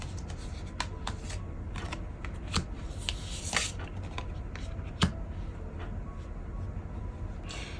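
Tarot cards shuffled and handled for an advice card reading: close, dry rustling and papery slaps with sharp clicks scattered through several seconds, no voices.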